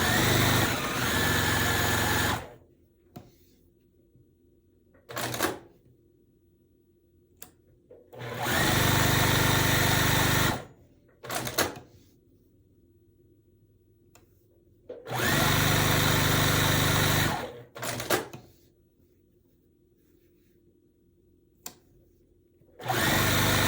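Sewing machine stitching the four corners of a quilt block, loud whirring bursts of a few seconds each separated by quiet pauses as the fabric is repositioned, repeated four times.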